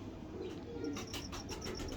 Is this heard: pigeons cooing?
yes